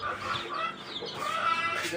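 Desi chickens cluck in a busy overlapping chorus at feeding time on a small farm, close and continuous, with a person's voice mixed in.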